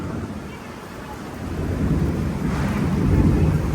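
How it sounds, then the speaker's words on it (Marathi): Low, continuous thunder rumbles beneath a steady hiss of rain, growing slightly louder toward the end. "गडगडते मला तिथे आवाज"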